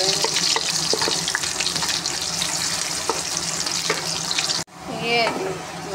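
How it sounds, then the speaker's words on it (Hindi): Onions sizzle loudly in a hot pan with oil for chicken pulao, a dense steady crackle with occasional stirring clinks, then a brief pause before a voice speaks over renewed sizzling. "मैं प्याज डालूँगी। और इसको ब्राउन करेंगे।"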